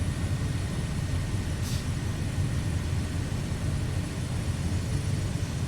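Aircraft engine in Microsoft Flight Simulator 2024 during bush flying in Idaho, a steady droning hum with airy noise, constant and fairly loud with no talk.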